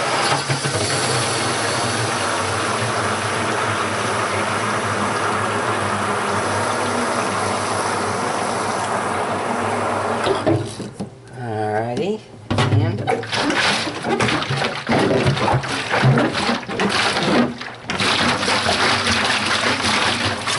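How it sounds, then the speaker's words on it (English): Water poured from a jug into a plastic carboy being rinsed of bleach, a hollow gurgling stream running steadily under a constant mechanical hum, briefly interrupted, then resuming with sloshing. "Let me put more water in."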